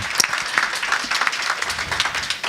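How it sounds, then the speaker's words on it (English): Steady applause from an audience at a panel event at a launch in Seattle, a dense, even wash of many hands clapping at moderate volume throughout. "Round of applause for Dr."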